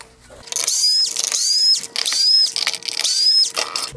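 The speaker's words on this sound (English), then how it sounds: "Now there are four T20 screws across the bottom." Four bursts of powered screwdriving as T20 screws are backed out along the bottom of a 2019-2021 Range Rover Sport LED headlight, each a rising whir with a high mechanical whine, close and loud with short pauses between.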